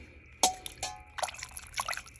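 Small stripped anodized aluminum RC parts drop into water, giving a few sharp drips and splashes followed by soft trickling, close and fairly quiet with no talk.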